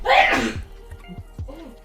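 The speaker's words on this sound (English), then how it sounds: "Good old sneeze, yep." One loud, close sneeze bursts out, then a few soft clicks and small rustles trail off.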